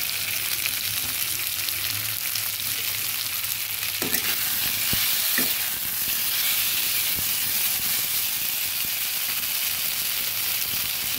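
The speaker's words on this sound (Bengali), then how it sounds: "শসাগুলো কিছুটা ভেজে নিয়ে এবার দিয়ে দিচ্ছি সজনে ডাঁটাগুলো।" Cucumber pieces fry in hot oil with a steady, close sizzle for a Bengali matar dal shukto, with a few soft clanks as drumsticks are tipped into the pan and stirred.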